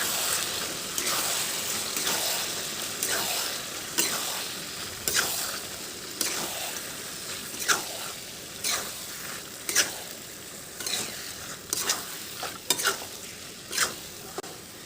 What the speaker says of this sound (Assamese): এইদৰে হাই ফ্লেমত 10 মিনিটমান মাংসখিনি ভালকৈ ভাজি থাকিম